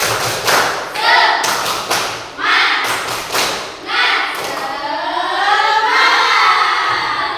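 A classroom of pupils doing the tepuk semangat chant, group clapping in a rhythmic pattern of thuds and taps mixed with children's chanting voices, loud and close throughout.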